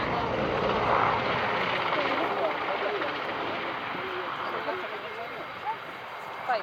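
An AgustaWestland Merlin HM2 naval helicopter flies at the RIAT air show, its rotor and turbine noise a steady broadband roar that swells early and fades gently, with faint crowd voices beneath.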